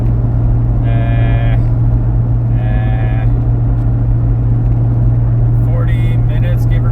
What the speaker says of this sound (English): I am actually currently driving to work.